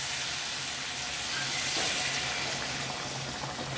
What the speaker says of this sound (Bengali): এখন আমি এতে গরম জল দেব।